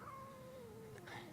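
A cat in the video game Murdered gives a single drawn-out meow that slides downward, fairly faint and alone over a quiet background.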